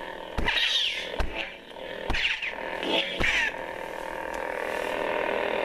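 A Dominix V3 lightsaber replica from Ultra Sabers plays a sound-font clash effect several times over a steady electronic hum, with sharp bright bursts and sweeping crackles at irregular intervals before the hum continues alone.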